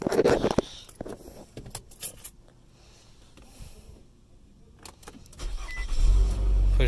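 A 2015 Nissan Altima is push-started and its engine catches near the end, settling into a loud, steady idle after a stretch of quieter cabin clicks, key jingles and faint mechanical noises.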